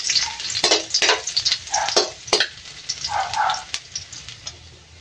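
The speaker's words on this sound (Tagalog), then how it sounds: "So, mainit na yung mantika, guys. Uunahin itong paglagay ng aluya." Ginger dropped into hot oil sizzles loudly and steadily close by, with sharp spattering crackles and a few clanks from the pan throughout.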